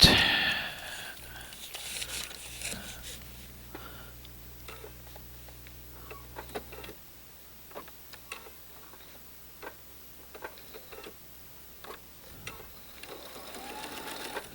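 A sewing machine stitches a quilt block, giving a steady run of close ticking needle strokes after a brief louder start, moderately near, with no talking.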